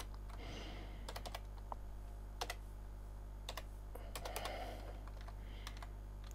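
Close computer keyboard typing during microcontroller programming for an LCD display, bursts of sharp key clicks in irregular clusters over a steady low electrical hum, with no talking.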